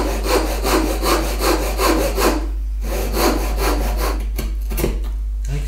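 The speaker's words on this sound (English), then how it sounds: "Let's just cut the notch in the other piece now." Hand saw cutting a notch in wood for a halving joint: steady back-and-forth strokes, about two a second, loud and close with a rasping wooden scrape, pausing briefly before resuming, no talk over a low constant hum.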